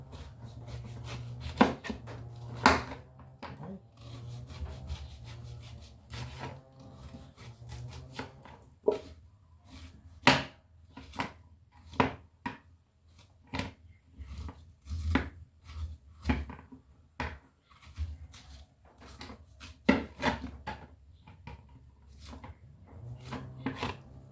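Sharp knife chops into a hard, tough-skinned kamansi (breadfruit) on a board, a long run of crisp, irregular strikes, close and fairly loud, with no voices.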